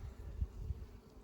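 Honeybees hum in a low, steady drone from an opened hive holding about 40,000 bees that are drawing out comb and feeding on sugar water, heard faintly and without talk.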